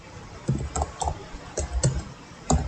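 Computer keyboard keys clicking in short irregular bursts as an SQL insert query is typed, close and fairly quiet with no talk.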